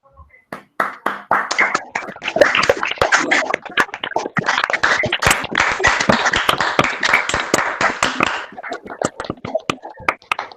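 Webinar participants clap together over open microphones, a burst of sharp, slightly uneven handclaps from several people that builds, holds for several seconds and tapers off into a few scattered final claps.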